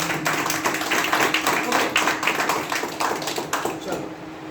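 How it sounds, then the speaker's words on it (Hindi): Audience at a training session clapping, a steady, moderately loud patter of many hands with rapid irregular claps, slowly fading toward the end. "जोरदार ताली"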